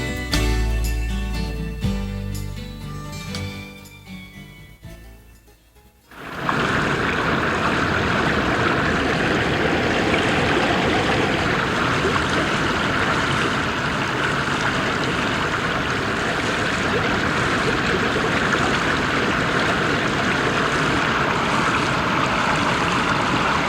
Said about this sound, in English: The sound of water is the music of the mountains.